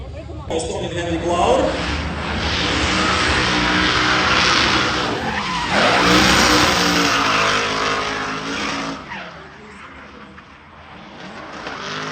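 Drift race car sliding through a qualifying run at a drift competition, engine roaring steadily with broad skidding tire noise for most of the stretch, loud and close, with commentary talking over it.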